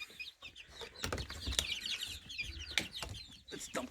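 A chorus of high, rapid peeping from a group of young chicks, close by, with a few soft thumps and rustles underneath.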